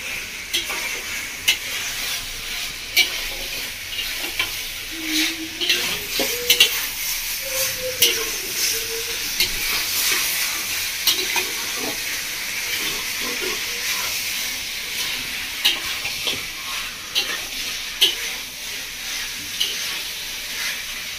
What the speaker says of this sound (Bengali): আলু আর পেঁপে দিয়ে আরও 3-4 মিনিট মতো কষিয়ে নেবো